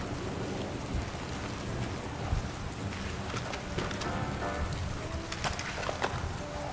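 Steady heavy rain hisses throughout a stealth video game scene in Splinter Cell Chaos Theory, with scattered drops and a low rumble underneath, constant and enveloping with no voices.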